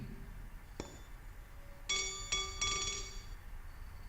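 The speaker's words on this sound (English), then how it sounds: "Let us check one more tuning fork where number is written for" Struck tuning forks used in a classroom sound demonstration, including one marked 480, give clear pure ringing tones: a sharp strike near the start, then three overlapping bright rings that sustain and slowly fade.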